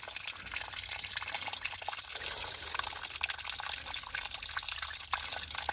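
Warm, clean water runs and splashes steadily as it drains from the radiator of a 1928 Ford Model A, a continuous trickling pour with no voices.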